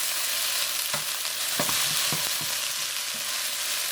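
Beef pieces fry in a pan, a continuous sizzle broken by a few sharp scraping clicks as they are turned, heard alone without talk.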